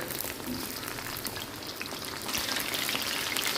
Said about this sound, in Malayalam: അപ്പോൾ ഇതൊന്ന് ചിക്കൻ ഫ്രൈ ചെയ്ത് വരട്ടെ.